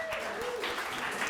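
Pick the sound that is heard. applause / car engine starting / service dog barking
applause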